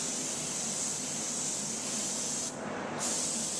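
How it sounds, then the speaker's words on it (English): A spray gun lays down Matrix base coat paint for a repair blend, a steady close hiss running almost unbroken, with one short pause near the end. "we just apply a single flowing coat and gently flare the wrist to achieve the blend"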